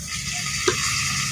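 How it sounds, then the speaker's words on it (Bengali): Cumin seeds and a bay leaf sizzle in hot oil in a wok, a brief close hiss with a single small pop. "জিরে ফোড়ন দিয়ে নিচ্ছি।"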